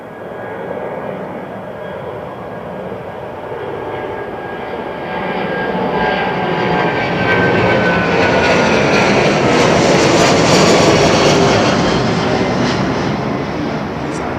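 Airliner departing London Heathrow's runway 09R, a broad jet roar that swells steadily from moderate to loud and holds near its peak as the aircraft climbs away, with no voices.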